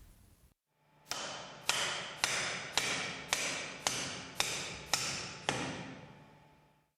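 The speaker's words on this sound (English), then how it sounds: "Using a plastic hammer, hammer on the swash plate." A plastic hammer strikes a swash plate in nine evenly spaced, ringing blows about half a second apart, each followed by a short metallic decay. It is close and fairly loud, with no talking.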